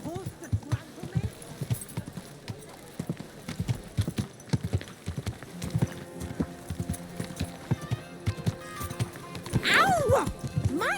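In the video game Kingdom Come Deliverance II, a horse trots with rhythmic clip-clop hoofbeats close by, with voices speaking over it and a whinny near the end.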